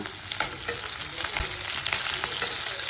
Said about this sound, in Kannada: ಒಗ್ಗರಣೆಗೆ ಒಂದು ಅರ್ಧ ಈರುಳ್ಳಿ ಹಾಕ್ಕೊಳ್ತಾ ಇದ್ದೀನಿ. ಸ್ವಲ್ಪ ಕರಿಬೇವು ಹಾಕಿದ್ದೀವಿ. ಇದನ್ನು ಫ್ರೈ ಮಾಡ್ಕೊಳ್ಳೋಣ.